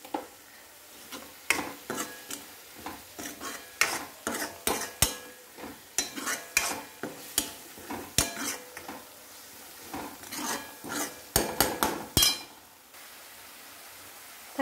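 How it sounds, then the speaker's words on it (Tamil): Tomatoes sauté in a pan with a soft sizzle under repeated clinking and scraping strokes of a stirring spoon, close by, with no one talking. "தக்காளி கொஞ்சம் ஓரளவுக்கு வதங்கட்டும்."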